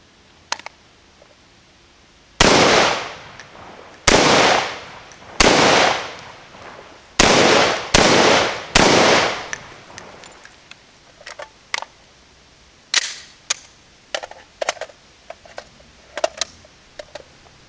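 A rifle firing several loud sharp shots, close by, with about six big reports spaced a second or two apart followed by quieter clicks and metallic handling sounds.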